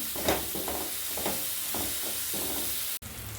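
A curry frying and sizzling steadily in a pan, with a constant hiss broken by rhythmic stirring scrapes and a sharp knock near the end.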